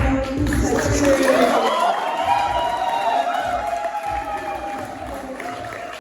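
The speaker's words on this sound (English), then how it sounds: "So give a big round of applause to Sachin." Audience applause with cheering at an annual day celebration, a dense crowd of clapping hands sustained for several seconds, loud at first and tapering slightly toward the end.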